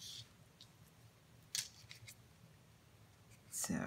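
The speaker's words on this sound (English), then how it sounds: "Now the sentiment, I'm going to fussy cut live." Scissors snip a paper sentiment for a handmade berry-themed card in a few separate cuts, close and crisp against a quiet room, with short pauses between snips.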